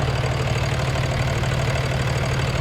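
A truck engine runs at idle while a faulty fan clutch lets the fan spin freely. It makes a steady, low, rumbling drone with a slight knocking texture, heard up close with no talking.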